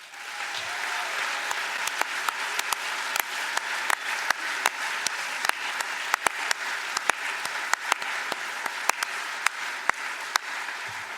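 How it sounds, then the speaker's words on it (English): Sustained applause from a large audience in the hall at the 2022 ARIA Awards, a dense steady roar of clapping with sharp individual claps popping out near the microphone throughout. "you can hear it in that applause"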